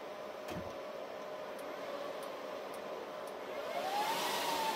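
Dell PowerEdge server fans spinning during a reboot, a steady loud whooshing hum with a faint tone that rises near the end.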